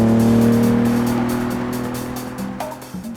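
A Lamborghini Countach supercar speeding, its engine a steady, loud droning roar that slowly fades over a few seconds, with a brief knock near the end.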